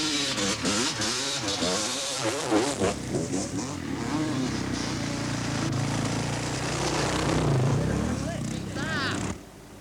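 An enduro racing motorcycle in a 1990 South Island race rides past with rising and falling engine buzz and revving, fairly close, under excited talk that carries through the clip.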